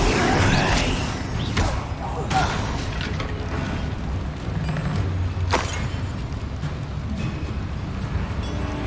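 Explosive Confringo spell blasts in Hogwarts Legacy on Xbox Series X, with a couple of sharp booming impacts among game effects and a continuous rumble, while character voices speak during the fight.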